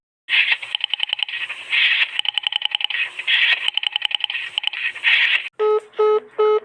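A rapid series of telephone keypad tones, then two or three short electronic ringing bursts on the line.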